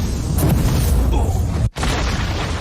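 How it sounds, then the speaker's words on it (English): Anime explosions: a loud, sustained boom with a dense roar, cut by one sudden brief dropout before the rumble resumes. "More explosions."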